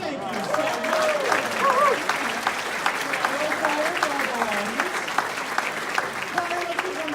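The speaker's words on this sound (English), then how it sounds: "Let's give one round of applause to our beautiful Fountain of the Sun audience choir." Audience applause fills a choir concert hall after a spring show song, a dense, steady wash of clapping that carries on throughout while a voice talks over it.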